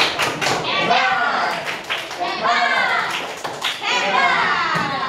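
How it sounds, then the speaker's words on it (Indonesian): A class of students claps together for three classmates who just performed in an Islamic religious education lesson, clapping in a rhythmic patterned cheer, with children's voices chattering and calling over it throughout. "Kasih kita tepuk hebat"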